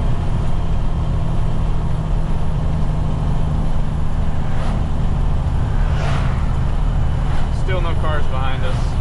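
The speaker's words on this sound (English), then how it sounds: "and then we'll get back on the exhaust brake" Heavy truck hauling a John Deere 5100M tractor down a winding mountain road, its steady low engine and exhaust-brake drone continuous and loud throughout, with road noise and a voice talking over it.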